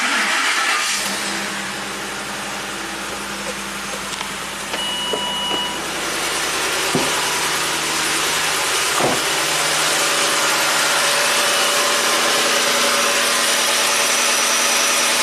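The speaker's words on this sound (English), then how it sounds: "Let's just fire it up, see, listen to the engine." A Ford 5.4L 3V V8 engine with a variable cam timing fault idles steadily with a low, even rumble, loud and close, with a few brief revs and clicks along the way.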